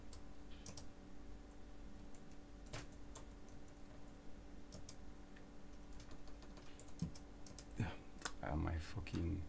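Computer keyboard typing at a desk, a run of scattered clicks and key taps over a steady electrical hum, ending with a louder burst of handling noise.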